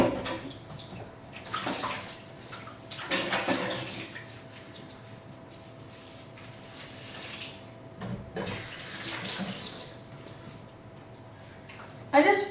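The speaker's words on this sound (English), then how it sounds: "I just washed and rinsed the spatula I was using." Running water from a kitchen tap rinses a spatula used for banana bread batter, a steady wash with louder splashing bursts and clatter near the end, close by.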